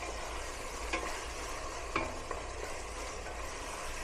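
Tomatoes frying in a pan, a soft steady sizzle with a few brief scraping clinks as they are stirred, close and quiet, with no talk.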